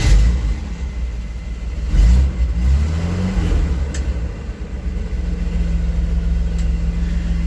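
A 1984 Chevy C10 pickup's six-cylinder engine turns over and catches, then revs up in a couple of rumbling surges before settling into a steady, loud idle close by.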